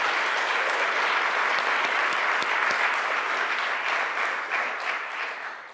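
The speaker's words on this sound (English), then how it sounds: "Can we just give like a round of applause to SRLP and the amazing work that it does?" Sustained audience applause following a lecture award event at an academic gathering, dense and steady clapping from a large crowd that holds strong for several seconds before tapering slightly toward the end; no talk heard.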